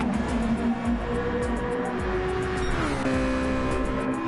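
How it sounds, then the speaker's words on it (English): Inline four-cylinder race cars in a Formula GT racing video game rev at Monza, several engines droning and shifting pitch together, dropping as they brake toward a chicane, sustained and moderately loud with no talking. "the beautiful roar of the inline 4 cylinders revving down the straights"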